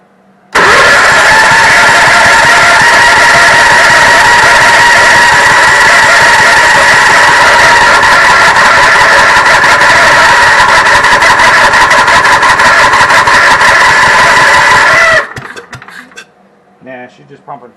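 A Cushman golf cart engine cranking on its starter, a loud, steady, whirring grind held for about fifteen seconds before cutting off to near silence, with no firing.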